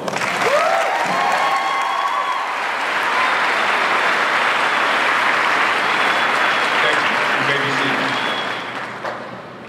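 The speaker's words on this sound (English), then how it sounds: "Please join me as we honor this group with a round of applause." Loud, sustained applause from a school auditorium crowd at an eighth-grade promotion ceremony, a dense, even wash of clapping lasting nearly ten seconds with faint voices underneath.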